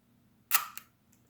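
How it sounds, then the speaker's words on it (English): A single crisp mechanical click of a Leica IIIb rangefinder film camera shutter, quick and close, followed by a softer small click against near silence. "You can hear the shutter."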